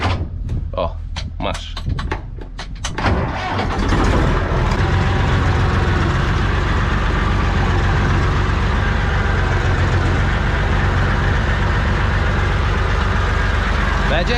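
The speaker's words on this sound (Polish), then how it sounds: "Ja pojeżdżę traktorkiem." An Ursus C-360 tractor engine running during land levelling alongside a JCB loader, starting with a few sharp knocks and clanks before settling into a loud, close, steady rumbling drone that continues without a break.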